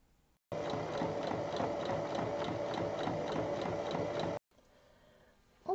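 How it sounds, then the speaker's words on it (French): A sewing machine stitches a fabric book pouch in one steady, close run of nearly four seconds with a fast, even mechanical whir, then stops, leaving a quieter background. "Il faut piquer sur trois côtés."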